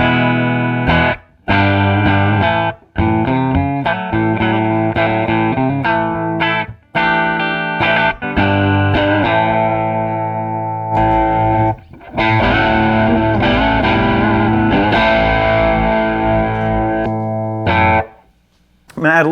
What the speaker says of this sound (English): let's stack some pedals on top of that and see what we wind up with here